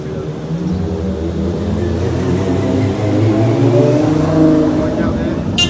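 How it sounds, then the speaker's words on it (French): A blue Ferrari 812 GTS convertible, a V12 on a Geneva street, gives a deep, steady engine drone that swells a little toward the end, loud and close, with a voice talking over it. "Regardez de quoi on tombe. Une Ferrari 812 GTS."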